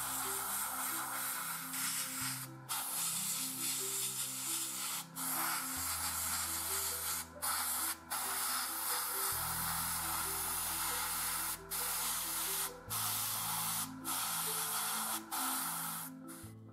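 Black base coat sprayed from an airbrush onto the air intake parts of a 1/48 scale F-104J model kit, a steady close hiss running throughout with a few brief breaks, over a low tonal hum.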